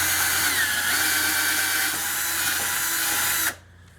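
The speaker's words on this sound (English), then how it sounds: "we're just going to drill a hole" A power drill bores a small hole in scrap wood, holding a steady, loud whine for about three and a half seconds before it cuts off abruptly, close up and with no talking.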